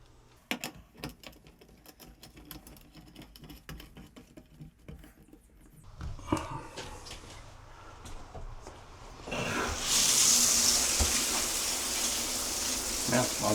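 Water sprays from a Moen shower faucet's handheld sprayer, a steady close hiss that rises loudly over the last few seconds after scattered clicks and handling clatter.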